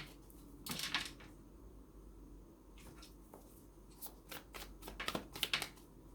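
Tarot deck shuffled close up, soft papery riffles and taps in scattered bursts with quiet gaps between, faint and without speech.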